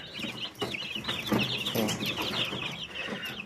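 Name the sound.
young chickens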